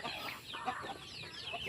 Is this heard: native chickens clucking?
yes